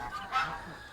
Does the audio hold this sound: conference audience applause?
no